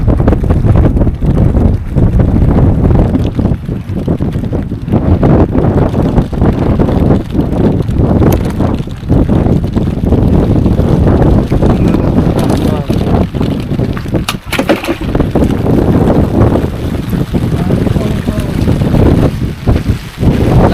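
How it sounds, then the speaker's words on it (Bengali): Strong wind batters a microphone on a fishing boat at sea at night in a storm, a loud, continuous roaring rumble dominating throughout with voices now and then beneath it. "হাওয়া না, প্রচুর হাওয়া, ওর জন্য ডুঙি ঘুরতে থাকে,"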